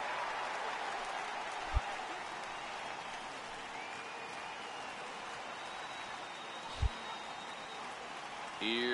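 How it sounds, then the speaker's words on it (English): Heavy rain pours down on a baseball stadium in a video game, a steady broadband hiss that holds evenly throughout, with two brief low thumps and faint crowd noise beneath. "the rain's starting to intensify here. It's coming down a little heavier now."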